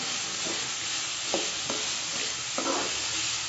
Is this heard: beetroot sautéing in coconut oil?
yes